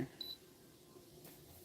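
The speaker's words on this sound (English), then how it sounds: "I'm getting beeped at." A short, thin electronic beep sounds once from a nearby device during a quiet tea-time livestream, followed by a faint click against a hushed room background.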